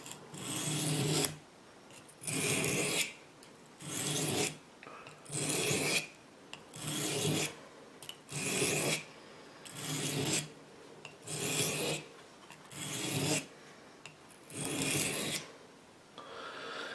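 A knife blade is drawn across a grindstone in a regular rhythm, about ten raspy scraping strokes roughly a second long each, separated by brief pauses, close and clear with no talk.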